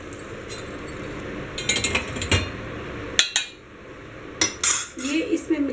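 A spoon stirs sugar syrup and crushed cardamom into a mohanthal mixture, a Rajasthani sweet, in a pan. It gives scattered metallic clinks and scrapes, with a few sharper knocks partway through, and no talking.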